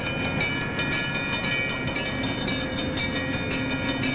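A commuter train runs at the station in Crystal Lake, Illinois, northwest of Chicago, with a continuous rolling rumble, rhythmic wheel clicks and a faint tonal ring above it, and no speech.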